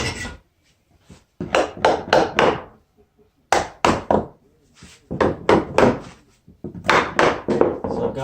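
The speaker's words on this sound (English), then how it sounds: "Just going to use the regular finish nail gun." A finish nail gun drives nails into a hardwood floor patch, firing in quick clusters of four or five sharp, loud, close thuds separated by short silent pauses.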